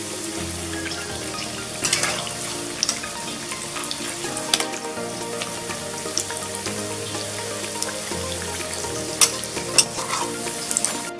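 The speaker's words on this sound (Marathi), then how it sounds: "आता हे छानसे तळून घ्यायचे." Vada dumplings deep-frying in hot oil for Mumbai vada pav, a steady dense sizzle and bubble with scattered sharp crackles and pops, close and fairly loud throughout, no talking.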